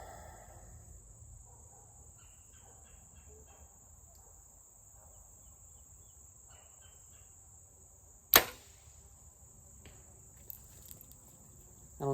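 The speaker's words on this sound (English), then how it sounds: "I don't know if you can hear the arrow hitting" A bowhunting arrow strikes a target at long range with one sharp, sudden smack. Steady cricket chirring runs underneath, and a fainter tick follows a couple of seconds later.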